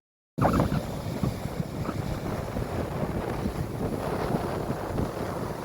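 A steady roar of heavy sea waves mixed with strong wind buffeting the microphone, continuous and loud, during unusual rough weather, with no one speaking.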